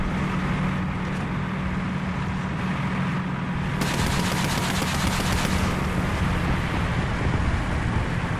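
Gunfire in the tank game War Thunder, a loud, dense, continuous roar of rapid machine-gun fire and engine rumble that swells into a harsher burst midway, then settles back.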